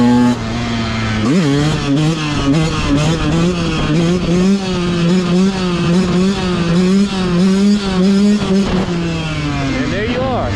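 Dirt bike engine held at about quarter throttle during a wheelie, a loud steady drone with wavering pitch that dips sharply once early and climbs again near the end, close and continuous throughout.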